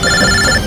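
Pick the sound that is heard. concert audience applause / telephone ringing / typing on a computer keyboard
telephone ringing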